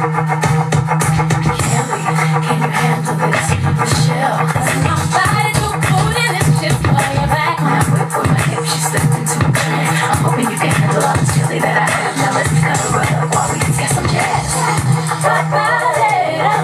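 A hip-hop beat built from a song sample plays loud and steady throughout, with a heavy, continuous low bass line under dense layered percussion and melodic hits, with no talking over it.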